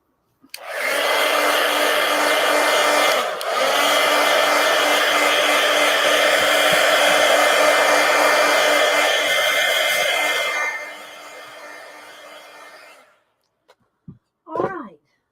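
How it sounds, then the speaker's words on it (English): A heat gun blasts hot air onto a sketchbook in one loud, steady roar for about ten seconds, dropping to a quieter hum before cutting off, followed by a few brief faint sounds. "let's hit this with the heat gun"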